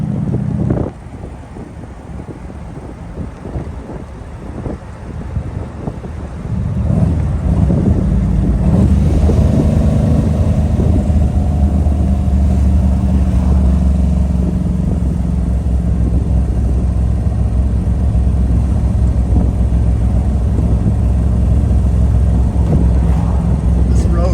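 A Ferrari 250 GT California's engine pulling away in third gear, a low labouring drone that rises after a few seconds and holds steady under wind buffeting.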